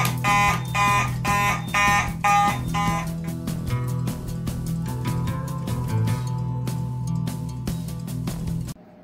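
Fire alarm system test with a voice evacuation panel: loud repeating electronic alarm tones and pulses, first in rapid bursts, then sustained tones, close and continuous before cutting off at the end.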